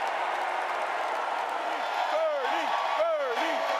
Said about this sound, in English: Bernie Sanders supporters cheering for 3 minutes before he could speak.